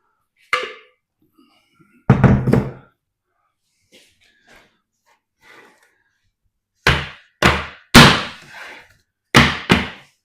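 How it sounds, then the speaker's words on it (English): A cake tin of chocolate and caramel ganache cake batter slapped down on a kitchen counter to knock out air, a few sharp thuds early then a cluster of five loud bangs near the end, with quiet gaps between. "Just slap it down to get the air out."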